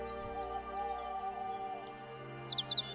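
A mynah bird calls with thin chirps and a quick burst of tweets over a steady background drone, faint and alone.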